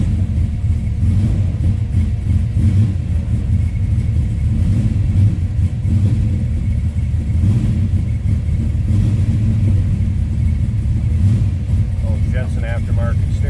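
A 1968 Chevrolet Chevelle SS V8 idles steadily while warming up, a continuous low rumble with slight fluctuations, close and loud throughout.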